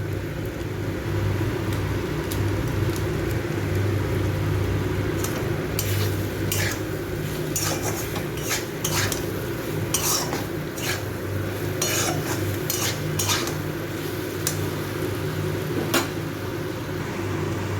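A spoon stirs Maggi masala and red chilli into a vegetarian kurti mixture, giving scattered light clinks and scrapes against the bowl over a steady low background hum, without talk.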